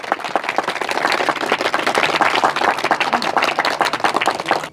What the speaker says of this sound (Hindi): इनके स्वागत में धुआंधार ताली बजाइए